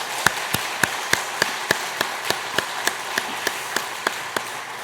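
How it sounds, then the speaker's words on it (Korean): Crisp, evenly spaced claps of a church congregation during a Sunday worship service, ringing out in a steady slow rhythm of about three or four per second over a quiet background. "우리 감사의 박수 다시 한번 드리겠습니다."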